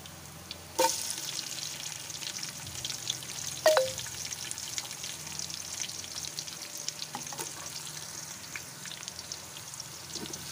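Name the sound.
onions frying in pan with garlic and ginger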